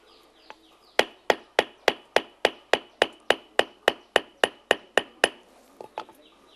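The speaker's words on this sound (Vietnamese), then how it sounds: "cứ đập bằng mũi búa để cho chạy theo chiều dài. Này gọi là khâu đập diệp." Gold leaf beaten with the tip of a hammer in a traditional Kiêu Kỵ village workshop, about fifteen sharp, evenly spaced metallic strikes in a steady rhythm, close and loud, with a few lighter taps before and after.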